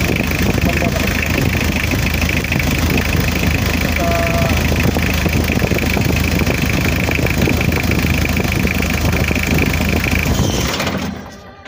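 A freshly started engine idles loudly and steadily for about ten seconds after its electric cut-off valve is wired up, then cuts out abruptly near the end.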